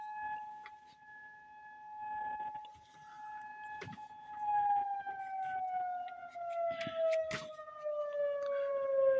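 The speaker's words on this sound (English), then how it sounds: "there's the tornado siren for the weekly, whatever you call it, the weekly checkup" A long, wailing outdoor tornado siren drones during a weekly test and slowly falls in pitch, with scattered clicks and small knocks nearby.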